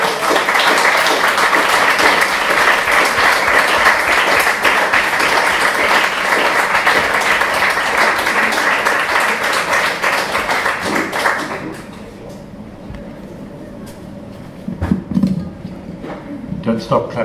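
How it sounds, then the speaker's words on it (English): An audience at a poetry book launch applauds the poet with loud, sustained clapping for about eleven seconds. Then it fades abruptly into quieter room sounds with a few scattered taps and some nearby talk. "Don't stop clapping for me"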